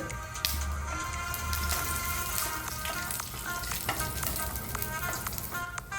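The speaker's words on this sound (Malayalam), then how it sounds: "അതിലേക്ക് ഒരു സ്പൂൺ ഗീ ഒഴിച്ച് നന്നായി ഉരുകി വരുമ്പോഴേക്കും നട്ട്സ് ചെറുതായി പീസാക്കിയത് ഇട്ട് മൂപ്പിച്ചെടുത്ത്" Chopped nuts fry in melted ghee in a pan, giving a dense, continuous crackling sizzle with scattered pops throughout, close and fairly loud with no voices.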